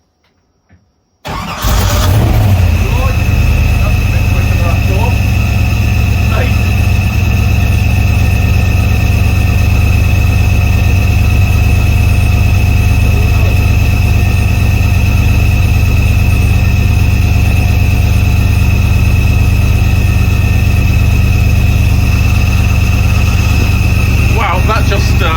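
An AK4 kit car engine fires up for the first time with a quick cranking catch, then runs loud and close, settling into a steady, sustained idle with slight revving throughout.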